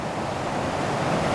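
Ocqueoc Falls in Michigan, a long, gently tumbling waterfall, heard as a steady broadband rush of water, close and continuous with no talk.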